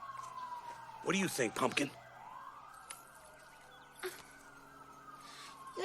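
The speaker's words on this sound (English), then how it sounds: "I can't think with all these sirens." Emergency sirens wail steadily in the background, a long sweeping tone that rises and falls while someone speaks briefly over it and short sharp noises cut in.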